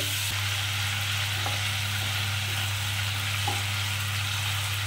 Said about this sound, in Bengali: চিংড়ি মাছগুলো ভালো করে একটু ভেজে নিতে হবে